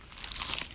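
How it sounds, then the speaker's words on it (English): A single crunchy bite into a cheesy pizza slice, a short close crinkly crunch standing alone without any talking. "Is that the sound of an ooey gooey cheesy crunchy slice of P-I-Z-Z-A?"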